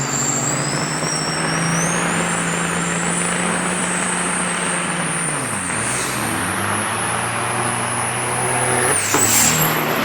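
Red Ford LTL 9000 big rig truck racing on a speedway, its loud diesel engine roaring close by and shifting through gears with pitch drops and climbs, plus a high whine and a brief hiss near the end.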